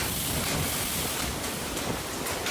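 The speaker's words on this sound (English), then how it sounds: "The wind whips past his house as he claims to be in the eye of the storm." Strong storm wind gusts roar in a continuous, loud broadband rush with slight surges, with no voices heard.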